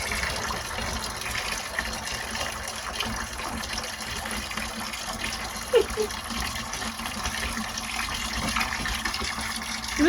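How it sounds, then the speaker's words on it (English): Water gushes and splashes steadily from an aquarium siphon tube that has fallen off, a continuous broadband wash with a couple of small clunks. "The tube fell off and I got water everywhere."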